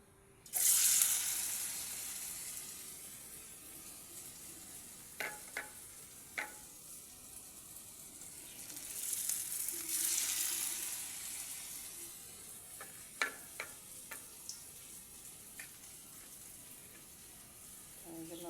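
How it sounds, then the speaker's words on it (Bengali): Paneer tikka coated in batter frying in hot oil, a soft steady sizzle with a few light clinks of a utensil and brief louder spatters, faint and close. "এটাকে আমি লাল লাল করে ভেজে নেব।"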